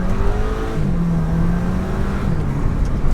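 A VW GTI fitted with a bigger turbo pulls hard in first gear, heard from inside as a loud, sustained engine drone rising in pitch with turbo whir and road roar, no talking.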